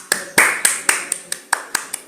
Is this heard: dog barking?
no